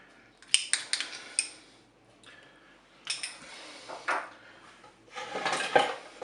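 Spaghetti with chicken and carrots being stirred in a Cookeo electric pressure cooker pot, a spoon clinking and scraping against the metal bowl in several bursts of rapid knocks separated by brief pauses, close and clear with no talking.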